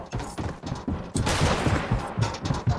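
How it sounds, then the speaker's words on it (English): Rapid gunfire in the video game Fortnite, a burst of several quick shots fired as a warning, punchy and close, with echoing bursts layered over game noise. "That's a warning shot!"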